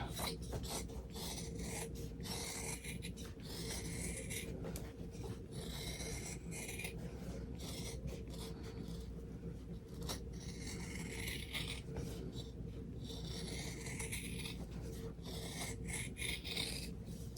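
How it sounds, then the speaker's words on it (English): Scissors cut steadily all the way around a fabric mug rug made in the hoop, giving a continuous close rasping snip, repeated in bursts and never letting up, with no voices. "now I'm just going to go ahead and cut all the way around"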